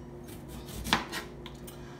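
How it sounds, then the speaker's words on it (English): A knife chopping onion and tomatoes on a board, a few soft cuts with one sharper knock. "So I'm gonna cut up my onion and my tomatoes"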